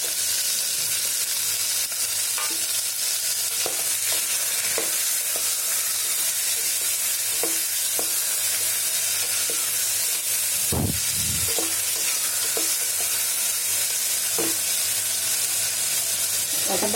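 Halved large red tomatoes fry in a pan with a continuous loud sizzle. Intermittent light clinks and scrapes of stirring come through, with a heavier thump around the middle.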